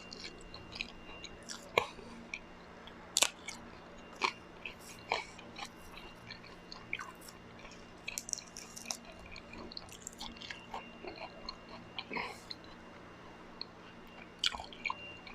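Someone eats chicken shawarma with Afghani rice, and close, quiet chewing runs throughout with scattered wet smacks and soft crunches at irregular intervals.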